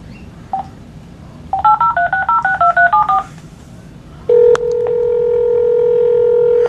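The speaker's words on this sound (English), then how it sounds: "You all asked for me to prank call Angry Grandpa, so that's exactly what I'm about to do" Telephone dialing tones for a prank call: a quick run of about ten short, evenly spaced touch-tone beeps, then a steady ringback tone that holds to the end over a low room hum, with no talking.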